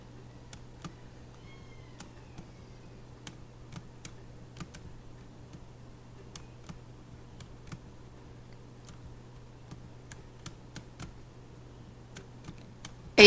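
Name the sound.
typing on computer keyboard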